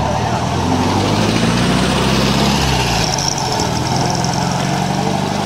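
A 1966 VW Beetle with a 1.3-litre four-cylinder engine of 40 PS runs at a classic car meet, holding a steady, close idle with a deep rumble throughout.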